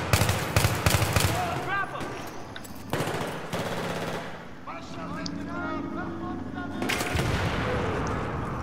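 Bursts of automatic gunfire and heavy shots ring out in the video game Battlefield 3, loud and rapid with pauses, while a player talks over parts of the shooting.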